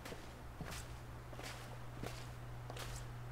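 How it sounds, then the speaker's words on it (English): Footsteps in The Long Dark, a few soft crunching steps spaced irregularly over a steady low hum, faint and somewhat distant with no talk. "footsteps."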